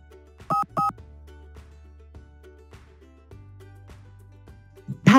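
Two short keypad tones sound as *99 is dialed in the GoTo voicemail app, loud and close, followed by quieter electronic prompt tones and a final tone at the end.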